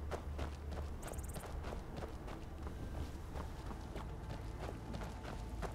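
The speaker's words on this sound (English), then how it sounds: "Someone's runaway horse." A runaway horse gallops in Skyrim near an orc camp, its hoofbeats a steady rapid clatter of repeated thuds over continuous game ambience and background noise.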